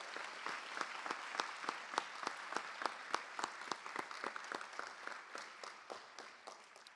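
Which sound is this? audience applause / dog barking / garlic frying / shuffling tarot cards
audience applause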